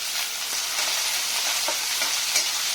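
Crushed garlic and chopped onion sauté in a pan for matki bhaji, producing a continuous bright sizzle close up with faint stirring taps and no speech.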